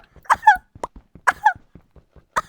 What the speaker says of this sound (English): So that's a kawaii cough.